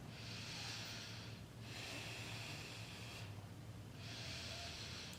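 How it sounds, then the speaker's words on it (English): Slow ujjayi yoga breaths drawn in and pushed out through the nose with a soft, steady oceanic hiss, three long breath cycles with brief pauses between, close and alone. "inhaling a soft ah sound in through the nose, with a soft ah sound exhaling out the nose"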